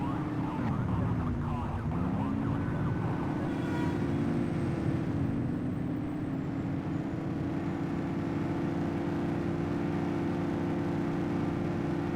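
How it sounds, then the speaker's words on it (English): Police car siren in The Precinct video game, wailing and sweeping at first, then holding a steady loud tone over a constant engine rumble for the full length. "Get behind them and flip the siren to make them pull over."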